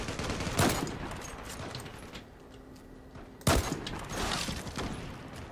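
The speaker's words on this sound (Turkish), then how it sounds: "Zıplayıp vuruyor biri orada" Gunfire in the online shooter game Zula, two sharp bursts of shots separated by a quieter stretch, with faint game background noise between them.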